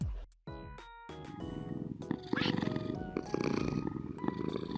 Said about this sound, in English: I stopped by the cats to feed them and hear their purrs